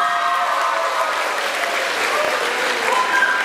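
An audience at a festival award ceremony claps in steady, dense applause that holds evenly throughout, loud and close.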